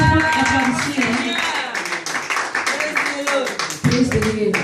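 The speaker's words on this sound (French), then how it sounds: "Kunnen we van de Heer God applaudisseren?" A church congregation in Aalst claps for the Lord in dense, continuous applause, with overlapping voices calling out underneath throughout.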